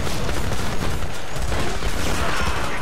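Sustained automatic gunfire in the video game Homefront, a dense, loud, continuous stream of rapid shots filling the whole stretch with no pauses.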